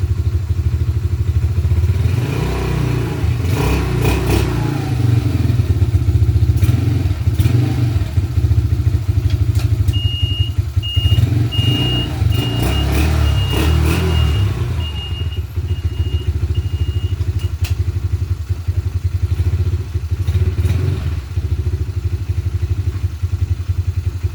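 An e-ton Viper 150 engine idles loudly and steadily close by for the whole stretch, with clattering and thudding mechanical noises layered over the running motor.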